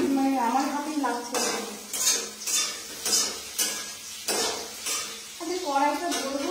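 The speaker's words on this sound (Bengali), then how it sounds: "কেমন জানি তেলগুলো ছিটকে ছিটকে মনে হচ্ছে" Potatoes frying in a hot wok as oil spatters, a dense crackling sizzle broken by repeated metallic clanks and scrapes of a utensil against the pan, close up, with occasional voice.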